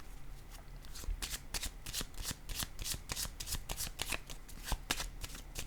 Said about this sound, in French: Je vais déposer une carte sur le jugement à l'envers.